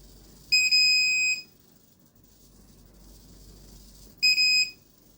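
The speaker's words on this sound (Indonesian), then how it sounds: "maka buzzer akan berbunyi dan lampu merah akan menyala" An Arduino buzzer triggered by object detection gives two loud, piercing electronic beeps, the first lasting under a second and the second shorter, separated by a quiet pause over low background hum.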